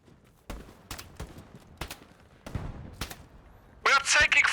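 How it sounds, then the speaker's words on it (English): Gunshots crack in a video game as a series of sharp, separate reports at irregular intervals, some close and loud. A brighter, harsher burst comes near the end. "We are taking fire, man down."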